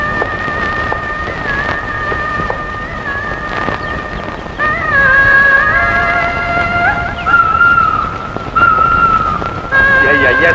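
Within a Tamil film with Sivaji Ganesan and Padmini, a horse neighs and hooves clop beneath steady sustained music tones, loud throughout and swelling midway.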